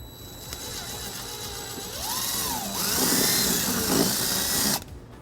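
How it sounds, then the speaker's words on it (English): A power drill with a 3/16 bit whirs up and bores through a 2019 Kia Sorento bumper for a few seconds, its pitch sliding and straining under load, then cuts off abruptly. "use a 3/16 drill bit to drill our first hole."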